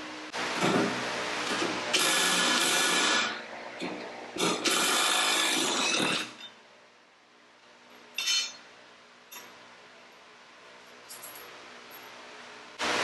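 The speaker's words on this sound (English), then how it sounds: "Gotta love an impact wrench." An impact wrench loosening the blade bolts on the 60D quick-connect mid-mount mower deck of a John Deere 1025R, fitted with a mulch kit; several loud, sustained rattling bursts, near, with clinks and brief quieter bursts between.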